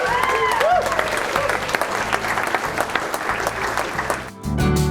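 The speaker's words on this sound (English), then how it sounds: "can we just give her a round of applause for how stunning she looks?" Wedding guests at Elmore Court in Gloucester break into sustained applause, a dense crowd of clapping hands that carries on steadily before dropping away near the end, with faint voices mixed underneath.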